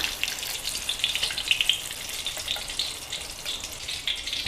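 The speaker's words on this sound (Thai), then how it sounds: "ไฟแรงสุดๆเลยค่ะ แล้วก็ทอดกันแบบว่า อมน้ำมันน้อยๆ เลยค่ะ" Thai omelette deep-frying in very hot oil over high heat, a steady bright crackling sizzle with dense spattering that runs continuously and fairly close, no voices.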